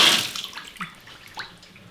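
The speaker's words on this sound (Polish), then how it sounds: "Pierwsze co możemy zacząć to kran." Water runs from a bathroom tap in a hotel in Turkey, a short soft splashing burst that fades into a few faint drips and trickles, close and alone.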